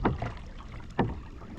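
Two close paddle strokes from a canoe on a river dip and splash about a second apart, soft and watery against a faint ambient hush, with no voices.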